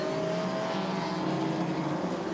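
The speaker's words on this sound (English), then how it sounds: "The oversteery Volvo ahead of the Golf, and then Jamie Lee in the orange Toyota MR2 trying to come back at them" Engines of race cars in a circuit heat, including an oversteering Volvo, a Golf and an orange Toyota MR2, a loud sustained droning whine with steady pitch and no speech over it.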